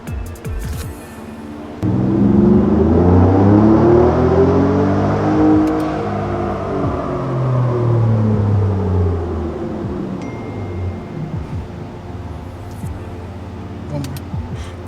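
2018 Ford Raptor engine on a dyno during a tuning pass, rising in a long, loud climbing rev for several seconds, then easing back down into a lower rumble and fading, recorded close.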